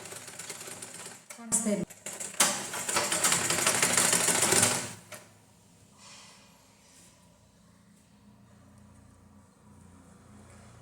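A sewing machine stitches a blouse lining in one continuous close run of rapid whirring for a few seconds, then stops, with someone speaking briefly afterward.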